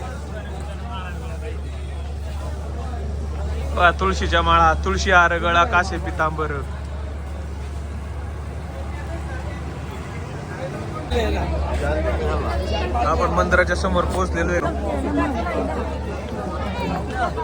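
Pilgrims crowd outside the temple at Alandi, a steady babble of many voices with a low constant hum beneath, while someone talks close by and singing is heard in bursts.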